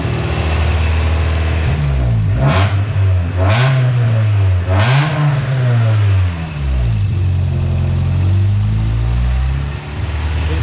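A Toyota AE82 GT engine idling close up with a steady low hum, briefly blipped three times in a row to rising revs before settling back to idle.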